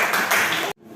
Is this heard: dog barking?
no